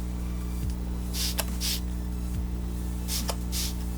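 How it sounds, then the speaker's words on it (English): Several short hissing bursts of makeup setting spray sprayed onto a face, spaced apart, over a steady low electrical hum. "I'm going to spray it on, focusing on the areas that I highlighted on"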